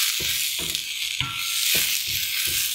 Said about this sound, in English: I'm going to add the potatoes back in and mix those together.